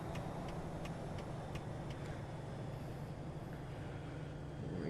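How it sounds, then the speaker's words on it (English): Truck engine in American Truck Simulator, a low steady diesel rumble with faint periodic clicks above it, moderately quiet and continuous. "There's some good downshifts there."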